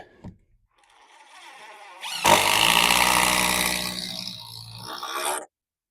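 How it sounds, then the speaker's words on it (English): A power drill drives screws into the top of a wooden flower box, a rising motor whir building into a loud grinding burst that holds for a few seconds before cutting off abruptly. "Putting a few extra screws in the top because there's nothing to hold it down."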